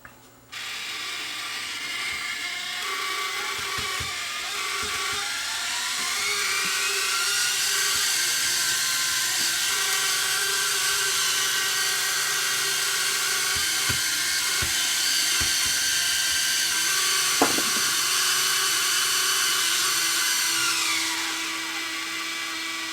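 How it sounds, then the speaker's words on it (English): A Sony DSR11 DVCAM video deck whirs in fast forward, its capstan motor giving a steady, close mechanical whine with a rising pitch and faint ticking, running alone for about twenty seconds before winding down. "I think it's the capstan motor."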